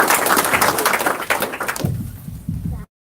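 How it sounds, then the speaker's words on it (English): An audience at a community gathering breaks into applause, a dense, loud burst of clapping that thins toward the end and then cuts off abruptly. "can we give him a round of applause to take us into our next?"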